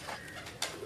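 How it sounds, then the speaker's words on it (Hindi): A pigeon gives a brief, soft coo, quiet and close, with faint background noise around it. "हाथ में जो उनका जो कबूतर बैठा है"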